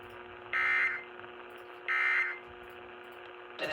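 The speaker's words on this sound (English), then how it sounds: "This concludes this emergency alert system test." Emergency Alert System test tone on a KDKA radio broadcast, two sustained electronic tone bursts about a second apart over a steady humming background, moderately loud with a third starting at the end.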